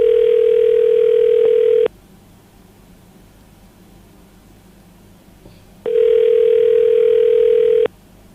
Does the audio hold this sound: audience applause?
no